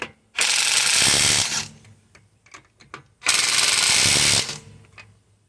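A Ridgid subcompact second-generation impact wrench, model R872081, loosens a fastener in two loud, rapid hammering bursts of over a second each, separated by a pause with faint clicks, close to the mic.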